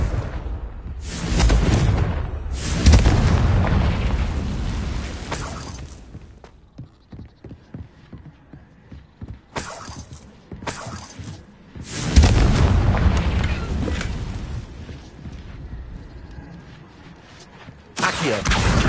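Confringo blasting-curse explosions in Hogwarts Legacy go off in a heavy, close string of booms. Dense rumbling blasts come at the start, around the ten-second mark and again near twelve seconds, with crackling debris and quieter clattering between them.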